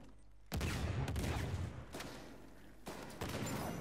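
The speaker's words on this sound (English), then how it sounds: "Yeah, I shot him." Repeated gunfire bursts from a shootout in the video game Uncharted 4 survival mode, loud and close, with several sharp volleys and sustained rattling across the clip.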